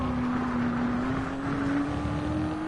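A race car engine in the F1 2019 video game holds a steady, slowly rising whine over continuous road roar, loud and unbroken throughout.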